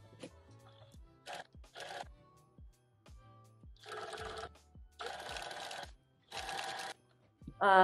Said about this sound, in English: Sew our sleeve all the way down to the arm curve.